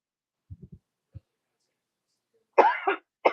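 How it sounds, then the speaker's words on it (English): A few faint, short low coughs in quick succession from a person with a cold, followed by a single soft one, then nearby speech. "I do have a bit of a cough and a little bit of a cold."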